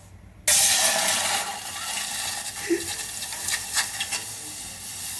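Thick buffalo milk poured into a very hot vessel bursts into a loud hissing sizzle that settles into steady, bubbling steam with small crackles throughout.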